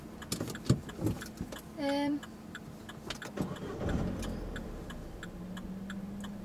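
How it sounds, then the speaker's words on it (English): A car engine starts during a driving lesson. There are ticking clicks, a brief cranking burst, then a low idle hum settling in, with people talking in the car. "Start the engine."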